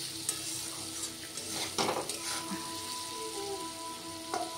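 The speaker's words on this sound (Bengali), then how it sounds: "আলুটা প্রায় হয়ে গেছে ভাজা" Potatoes fry with a steady sizzle in a pan while being stirred, with scraping and clinking of a utensil against the pan throughout and a few louder stirring bursts. No one speaks.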